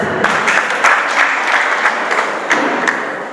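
Guests at a wedding ceremony applaud in a steady, dense burst of clapping that holds for a few seconds before easing slightly at the end.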